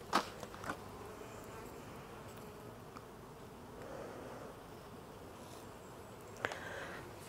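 Honeybees buzz at an opened beehive during a varroa treatment, a soft continuous swarm hum with a few brief louder buzzes passing close by.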